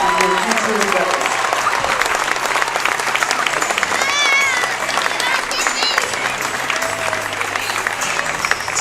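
A gym crowd at a boys' high school basketball game applauds the seniors with loud, sustained clapping, scattered cheers and voices mixed in, and a few whistle-like squeaks riding over the steady noise.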